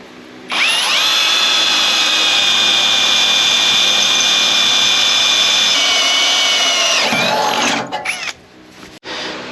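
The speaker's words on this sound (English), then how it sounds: "When the drill bit smokes, that means it's doing its best job." A power drill bores through metal for a hidden hitch on a slammed 1964 Ford F100, one steady high-pitched whine running about seven seconds before winding down, followed by a few brief clanks.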